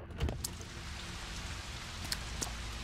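Rain falls steadily in the video game Pathologic, a constant soft hiss with a few faint drips on top.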